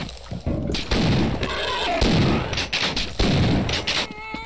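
Shotgun blasts from the video game Half-Life: loud, close, booming shots fired in quick succession, filling the short burst with heavy reports and echoing tails.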